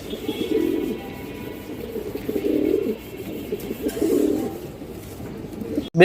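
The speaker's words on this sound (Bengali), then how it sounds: "এই দেখেন একটা আর্মি মাদি কবুতর আছে" A female Army breed pigeon coos close by in repeated throaty bursts, three or four rolling calls separated by short pauses, ending with a sudden sharp noise.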